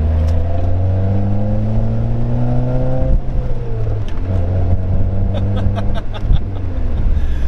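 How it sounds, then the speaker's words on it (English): A 2008 Pontiac Solstice SCCA Champion Edition roars loudly through several downshifts, engine pitch dropping and rising in steps, with sharp crackling exhaust pops near the end. "Little downshifts. Some pops."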